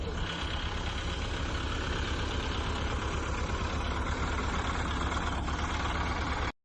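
Several tractor engines, Mahindra and Sonalika, idle together at a tractor tug-of-war in a steady low rumble and chug, close and continuous, cutting off abruptly at the end.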